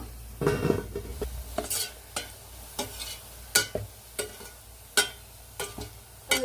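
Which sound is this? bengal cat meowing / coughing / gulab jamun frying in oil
gulab jamun frying in oil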